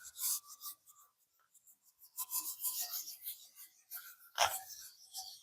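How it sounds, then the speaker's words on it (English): Scrubbing rust off a homemade steel griddle during seasoning, heard as close, quiet bursts of rasping, scratchy scouring strokes in an irregular rhythm with short pauses between. "I'm just going to take and kind of scour this in or scrub it in"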